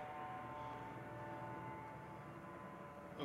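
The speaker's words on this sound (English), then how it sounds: "sounds like the police helicopter's out there" A police helicopter flying overhead outside a home garage, a steady, distant rotor and engine drone that holds evenly throughout with no talking.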